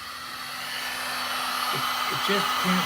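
A heat gun or torch warms a seized oil bolt on a red BSA motorcycle, giving a steady broadband blowing roar throughout, with a few faint knocks and a brief low voice-like sound near the end.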